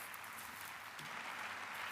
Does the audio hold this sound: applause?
yes